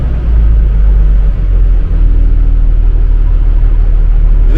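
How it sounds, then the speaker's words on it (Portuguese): A Mercedes-Benz O364 monobloc city bus engine idles with a smooth, steady low rumble that stays loud and even throughout. "O motor tá ligado, é tão suave."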